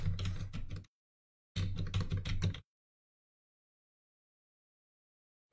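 Keys clatter on a computer keyboard as a prompt is typed into ChatGPT, in two close, steady bursts of rapid tapping separated by a short pause, then silence.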